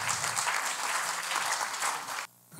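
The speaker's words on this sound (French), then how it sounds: "On peut les applaudir pour leur contribution." Audience at a French participatory-democracy conference applauds the speakers, a dense burst of clapping that holds steady for about two seconds before cutting off abruptly into near silence.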